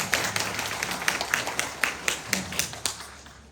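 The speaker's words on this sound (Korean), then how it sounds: "박수 한번 쳐주시기 바랍니다" Clapping from a congregation at a Saturday Lenten prayer meeting in a Catholic church, distinct sharp claps in a fairly regular rhythm, moderately close, fading toward the end.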